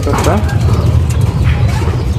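Pigeons of the Beji line coo softly in a short burst, close by, while someone talks over them.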